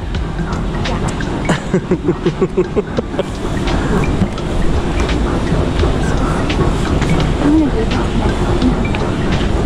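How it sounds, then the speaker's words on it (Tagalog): A train passes near a station in Barcelona, Spain, with rhythmic clickety-clack of wheels early on, then a steady rumble and hiss, while people talk nearby. "Nandyan na yung train, eh."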